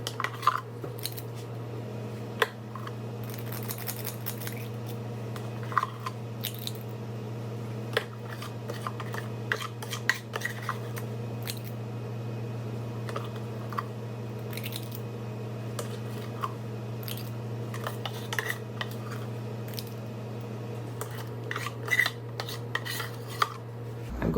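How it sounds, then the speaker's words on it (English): A spoon clinks and scrapes intermittently against a dish while scooping keto peach cobbler, producing sparse, sharp taps over a steady low hum, moderately close. "You can just use a spoon for this."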